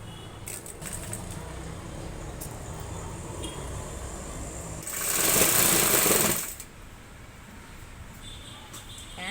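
A sewing machine stitches a lined blouse with a lip neck, with a short loud burst of running stitches in the middle over a quiet, steady background.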